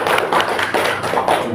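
Audience of teachers and staff applauding at SMPN 1 Angsana school in Pandeglang, a close, loud run of clapping that swells in a few uneven bursts, with sharp individual hand strikes standing out.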